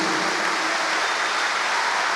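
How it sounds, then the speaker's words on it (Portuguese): Dense, loud audience applause at a church conference, a continuous wash of many hands clapping with no pauses and no voices above it. "aplauda bem forte a Jesus."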